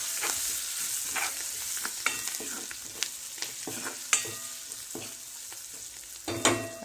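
Spiced masala with turmeric, garam masala, coriander powder and a little salt sizzles steadily in a pan for a dal dish, broken by repeated scraping stirs and a few sharper clinks of the spoon close by, with no voices.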